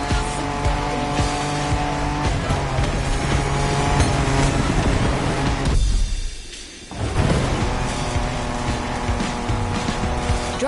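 Off-road race cars in The Crew Motorfest roar past at high revs with tires squealing and skidding, engine noise loud and continuous with a brief drop to near quiet midway before resuming.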